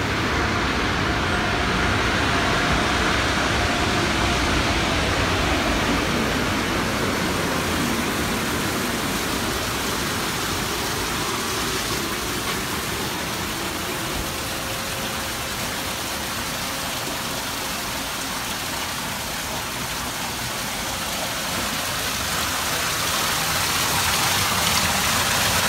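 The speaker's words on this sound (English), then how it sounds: "check out this waterfall I'm right in front of." A waterfall roars steadily up close, a dense unbroken rush that holds at an even level throughout with no talking.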